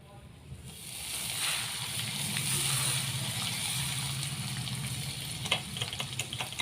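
Asafoetida sizzling in hot oil, then poured over homemade lemon pickle: a steady crackling fry that swells midway and breaks into a few sharper spits and splashes near the end, close and moderately loud.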